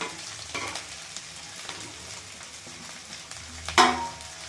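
Pre-fried ivy gourd (kovakkai) is tipped into a pan for a gravy and fries with a crackling sizzle. A loud clatter near the end could be the ingredient hitting the oil or stirring.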